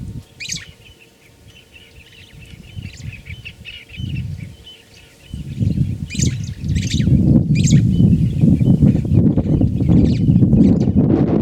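Sparrows chirp in a park beside a roadside fence, their bright calls scattered in short bursts over a steady low rumble of traffic that swells louder toward the end.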